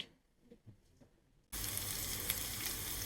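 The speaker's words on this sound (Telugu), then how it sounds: "మన మిద్ది మీద వంకాయలతో ఫ్రై చేశాను" After a quiet start, eggplant frying in a pan bursts into a loud, dense sizzle that continues steadily to the end.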